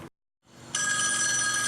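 After a brief silence, a telephone bell starts ringing, a loud continuous metallic jangle close by that keeps going to the end.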